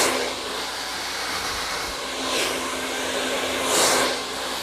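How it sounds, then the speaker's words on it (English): A hair dryer blows steadily on hair as it is styled, a close, continuous whooshing hum with a faint tonal whine and slight swells in loudness. "Blow dry."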